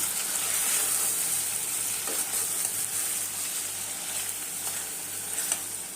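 Hariyali chicken ghee roast with coriander powder and garam masala frying in a pan, a constant bright close hiss of sizzling fat with a few soft stirring scrapes and no voices.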